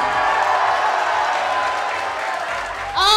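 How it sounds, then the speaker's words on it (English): Audience applause and crowd noise at a Chinese beauty pageant talent show, a steady wash of clapping and cheering for a competing group, ending as a voice starts speaking. "If you think group number three deserve to win, please stand up and applaud"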